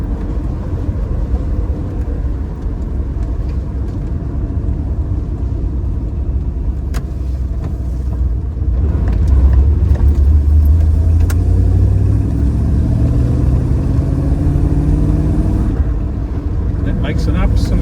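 A 1972 Triumph Stag Mk1 3.0 with manual overdrive drives along with a deep, loud engine rumble that swells as it accelerates through the gears, while someone talks inside the car.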